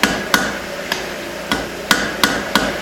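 A hammer strikes hot steel on the edge of an anvil while forging a small hammer, giving seven sharp, ringing blows at uneven intervals, close and loud, with no talking.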